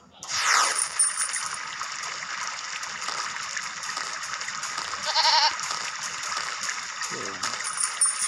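A cartoon goat bleats in the mobile puzzle game There Is No Game, set over a steady bed of game music, with short jingling effects midway and a voice speaking briefly.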